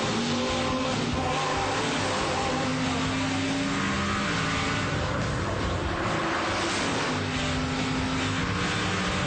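Drag race cars on nitrous roaring down the strip in a pinks race, loud sustained engine howl with rising pitched tones that climb and shift over several seconds, dense and close.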